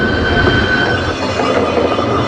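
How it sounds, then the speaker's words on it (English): The Lookout Mountain funicular railway car runs with a loud, continuous rumble and grinding wheel noise with a faint squeal, heard up close and alone. "the steepest of any funicular railway"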